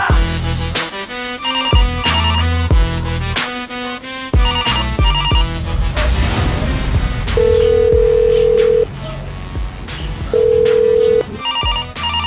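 A loud electronic phone ringtone plays a repeating melodic pattern, broken by sustained steady tones, ringing continuously close by.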